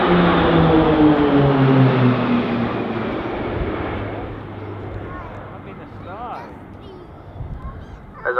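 Military aircraft flying in a tight wedge formation, propeller engines droning loudly at first and then fading into the distance, with someone talking over them throughout.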